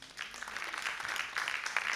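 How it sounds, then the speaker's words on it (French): Audience applause at the Voix des jeunes 2016 human-rights debate final in Guinea welcomes the Cofina director general to the podium; it is a moderate wash of many hands that grows slightly louder and continues throughout. "que je vous prie d'applaudir s'il vous plaît"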